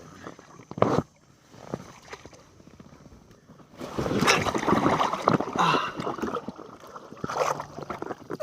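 Kayak paddle strokes splash and trickle on Lake Lanier, with a sharp knock early on, then steadier wet swishes and water gurgles close by, mostly without talk.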